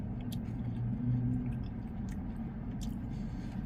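Close, wet chewing of Popeyes fried chicken wings coated in sweet chili sauce, with soft squishy bites and mouth sounds running steadily over a low room hum.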